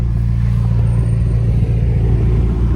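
Steady engine rumble from a 2020 McLaren GT, a deep low drone held at a fairly constant pitch for nearly three seconds, loud and close with no voices.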